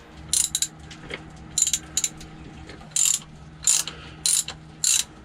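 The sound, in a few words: wrench removing a bolt from a tube stack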